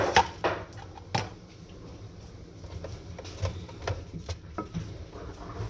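Red onion fed through a kitchen slicer into thin rings, heard as quiet, irregular cutting clicks and thumps against a low steady background, with no talking.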